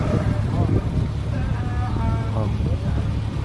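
A 1995 Opel Vectra engine that had been burning oil idles steadily with a low, even rumble throughout, while voices talk faintly over it.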